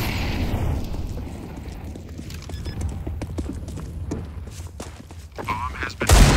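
A fire grenade thrown in Counter-Strike 2 wingman play lands with a loud burst that rolls into a steady roar, with shuffling footsteps and scattered clatter underneath and a sharp impact at the very end.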